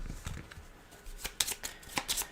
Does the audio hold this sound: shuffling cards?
yes